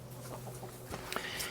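Chickens cluck softly in a barn's south lean-to, a few short calls over a low steady hum, close by and without talk.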